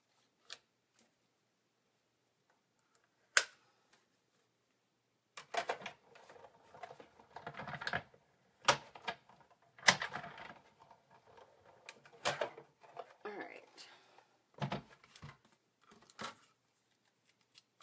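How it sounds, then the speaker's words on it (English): A Big Shot die-cutting machine cranks a die through paper to cut out the word love, a quiet run of clustered mechanical clicks and rolling grinds after a few isolated taps. "let's just get the Big Shot back out, and I'll cut out the word love."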